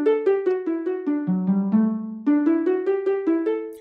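Minecraft note blocks wired as a doorbell play a plucked, chiming melody from a Frozen song, a steady run of about sixteen bright notes with clear, close attacks and no talking.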